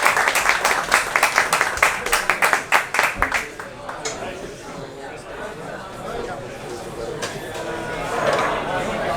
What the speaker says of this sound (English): Big round of applause for the panelists here.